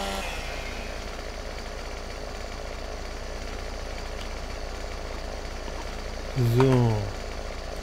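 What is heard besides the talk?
chainsaw sawing in video game Landwirtschafts-Simulator 17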